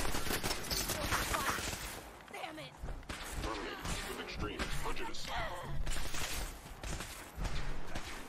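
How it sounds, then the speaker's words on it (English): Dense, rapid gunfire in Fallout 4, bursts of shots and impacts crowding together at close range over game sounds, with a voice talking in between. "Who is shooting at me right now?"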